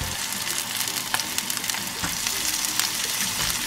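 Butter added to hot oil in a pan for butter chicken: loud, steady sizzling and crackling with scattered sharp pops and stirring, no talk.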